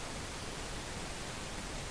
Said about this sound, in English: Pink noise is white noise as well, but with reduced higher frequencies.